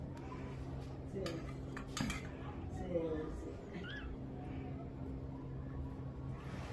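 A spoon clinks lightly against a dish a few times as a kitten is fed milk, faint and scattered under nearby conversation and household background noise.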